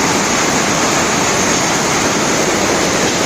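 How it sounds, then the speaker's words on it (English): Petrol drains out of a carburetor through its loosened drain screw on an LPG/CNG/petrol setup, a steady, loud, continuous rushing splash of liquid that runs unbroken for the whole stretch with no voices. "I'm draining all the petrol in the carburetor so that it doesn't confuse the system between petrol and gas"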